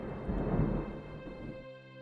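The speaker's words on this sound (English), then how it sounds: "Yeah, that was thunder." A low rumble of thunder rolls in and swells, then fades away over about two seconds, heard faintly in the background with a steady tonal hum continuing beneath it.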